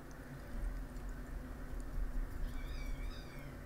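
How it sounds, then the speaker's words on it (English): A faint, high kitten meow rises briefly over a steady low rumble of background noise near the end. "That's a kitten if you hear it in the background."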